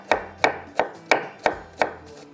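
Fresh ginger being cut on a board, six crisp, evenly spaced knife chops at a steady rhythm, close and distinct with no talking.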